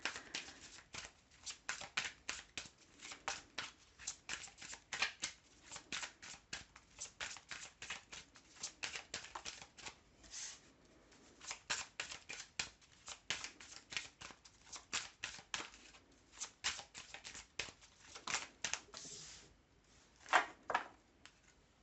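Tarot cards are shuffled over and over, making close, papery flicks and riffles in irregular rhythmic bursts with short pauses between, no voice over them.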